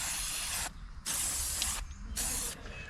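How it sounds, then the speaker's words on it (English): Water sprays hard from a hose onto freshly excavated footings at a construction site, three loud hissing bursts separated by short pauses, close up and with no talking. "We're spraying out our footings."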